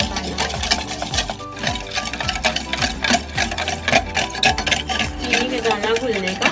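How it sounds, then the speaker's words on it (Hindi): A spoon stirs cornflour into a tamarind sauce in a pan, giving a steady rhythmic scraping and rubbing against the metal with a faint simmer, close and continuous. "अच्छे से मिक्स करके और इसको 5-7 मिनट पकाना है।"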